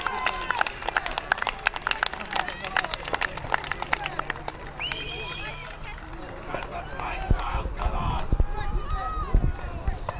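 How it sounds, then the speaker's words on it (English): Spectators at an under-13s rugby league Lancashire Cup final between Fylde and Liverpool Collegiate clap and cheer in bursts of sharp claps early on, then a livelier crowd murmur builds beneath an announcer talking. "Crowd getting excited with some very good play there"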